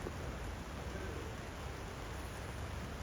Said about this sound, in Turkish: Bir yandan yağmur yağıyor.